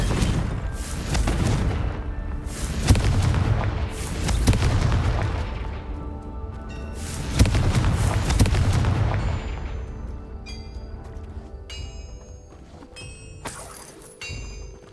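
Blasting fire spells in the Hogwarts Legacy video game, four heavy booming explosions in quick succession that roll and decay, followed by quieter game effects and chimes.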